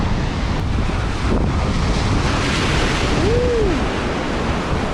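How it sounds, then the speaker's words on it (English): Big surf rolls in steadily at a beach in New South Wales, Australia, a loud, continuous roar of breaking waves and wash with wind buffeting the microphone, and no voices. "Waves them big."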